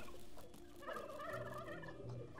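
Gobbler creatures in the video game Dungeons 3 give a soft, faint gobbling warble, a short burst of trilling turkey-like calls with no talk.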